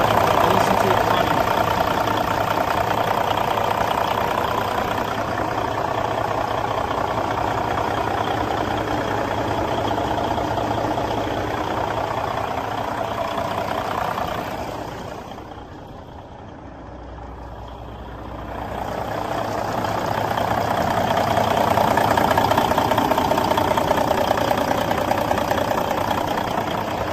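A 2000 Kenworth W900L truck idles nearby with a steady diesel rumble and a high whine on top; the sound dips briefly midway before returning to a full, even idle.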